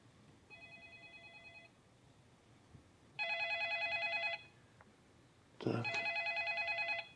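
A telephone rings in three separate bursts, the last two louder and nearer, with quiet pauses between them and no talking.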